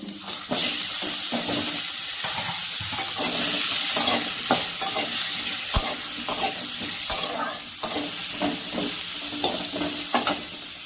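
Potato pieces fry in leftover fish-frying oil tempered with whole cumin and bay leaf, a loud close sizzle with repeated sharp scrapes and knocks of a spatula stirring the pan.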